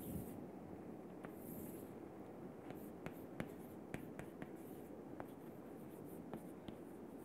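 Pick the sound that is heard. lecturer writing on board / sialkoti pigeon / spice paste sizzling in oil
lecturer writing on board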